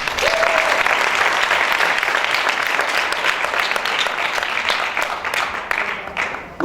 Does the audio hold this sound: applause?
yes